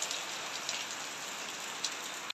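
Heavy rain pouring down in a steady, dense patter, with a few louder drops or splashes standing out now and then, close by and with no talk.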